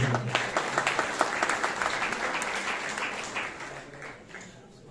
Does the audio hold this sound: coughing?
no